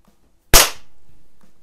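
A single sharp shot from a Crosman 22 caliber pellet pistol, loud and close, with a sudden crack followed by a short fading tail, heard alone.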